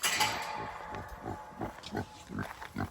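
A pig on a farm gives a series of short, soft grunts in an irregular rhythm, close by and fairly quiet, with faint clinks in the background.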